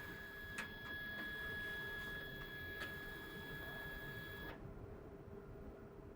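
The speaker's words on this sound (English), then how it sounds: "tap Feed Calibrate, and the printer will double check its settings and perform a label calibration." An i7500 industrial label printer runs a feed calibration, giving a steady high electronic whine with a few faint clicks before stopping abruptly, leaving a quiet background hum.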